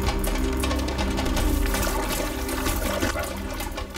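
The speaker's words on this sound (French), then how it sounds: "Alertés par le bruit des éclaboussures, d'autres crocodiles s'empressent de regagner l'eau" A large crocodile seizing a small wallaby at the water's edge in the wild, with loud, continuous churning splashes and sloshing water filling the whole stretch, no voices.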